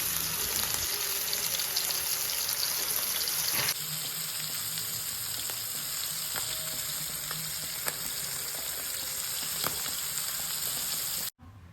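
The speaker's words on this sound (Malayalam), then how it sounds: "മുളക് പൊടി, മഞ്ഞൾപ്പൊടി, ഉപ്പ്, കുരുമുളക് പൊടി ഇട്ട് മസാല പുരട്ടി വെച്ചിരിക്കുന്നത് നമുക്ക് എണ്ണയിലിട്ട് വറുത്തെടുക്കാം" Sardines coated in a chili, turmeric, salt and pepper masala fry in hot oil, a continuous dense sizzle with crackling pops, shifting once partway through and cutting off abruptly near the end.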